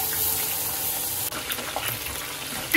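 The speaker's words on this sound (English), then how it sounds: "My oil is hot now, and to it I'm going to add in the chopped garlic" Chopped garlic sizzles in hot oil in a pan, a steady close crackling hiss with brief spits and pops throughout.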